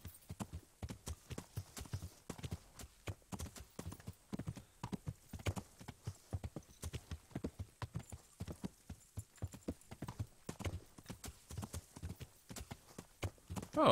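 Horse hooves clip-clop in a steady walking rhythm in the video game Kingdom Come: Deliverance, crisp and evenly spaced, with no talking over them.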